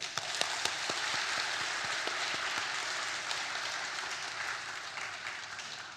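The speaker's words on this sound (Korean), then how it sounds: "감사의 의미로 박수를 부탁드립니다" Applause from a church congregation during a Korean worship service, steady dense clapping that fills the space evenly from start to finish, with a few sharper individual claps standing out.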